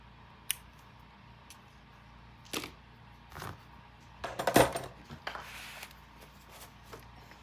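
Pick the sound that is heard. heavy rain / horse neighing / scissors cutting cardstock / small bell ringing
scissors cutting cardstock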